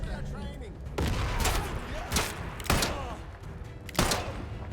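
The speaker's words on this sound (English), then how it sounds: "Give them a nice grenade." Gunfire and a grenade blast in the video game Atomfall, several sharp shots and heavy booming bursts spaced a second or so apart over a rumbling combat background.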